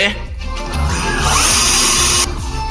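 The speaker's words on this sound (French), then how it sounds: "Et c'est une visseuse. Ah, tu ne fais que visser, en fait." A cordless screwdriver runs in one steady, close, high-pitched whirring burst lasting a few seconds.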